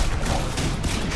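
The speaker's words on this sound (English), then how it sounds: "It probably fires probably 3 rounds with a trigger pull versus 1 round and a pump" A burst-fire shotgun in the Titanfall video game, with loud, dense rapid gunfire crackling in quick successive bursts over about a second.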